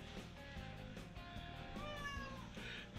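A cat meows a few times, drawn-out and fairly close, over a low background hum, in a motorcycle and memorabilia garage.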